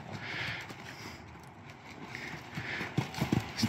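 A big, tall horse walks on hard ground with irregular clip-clopping hooves, the soft steps growing into a few louder, closer thuds near the end, heard fairly faintly with outdoor ambience and no talking.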